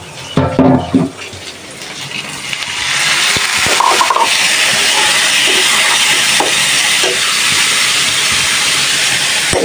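Water is poured into a hot pan of spiced fish curry with potatoes, first some clatter, then a loud, sustained steaming hiss that keeps going to the end, with no talking.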